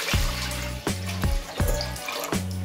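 Water splashes and gurgles as it is poured into a cooking pot in a home kitchen, readying steam for modakalu and undrallu, in several uneven surges heard close up.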